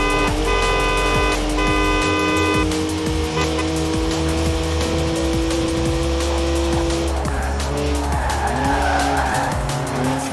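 A BMW 1M with a three-litre twin-turbo straight six in Forza Horizon 4 drifts, tyres squealing loudly over a steady engine drone, with a sustained tonal whine early on and continuous skidding throughout.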